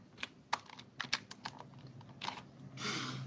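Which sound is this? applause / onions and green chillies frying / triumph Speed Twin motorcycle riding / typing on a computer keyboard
typing on a computer keyboard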